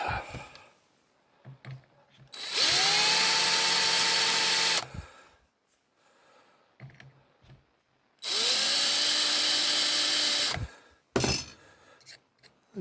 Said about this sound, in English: So with this hand drill, just going to line up the rivets,